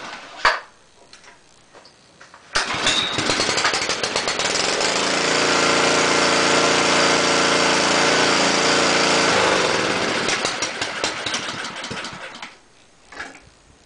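A Honda engine on a restored rototiller starts with a sharp pull and then runs at a steady, close, loud chug for about seven seconds before it is cut off, with clicks and handling noises before and after.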